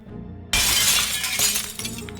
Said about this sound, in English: She had broken the glass to one of the downstairs windows.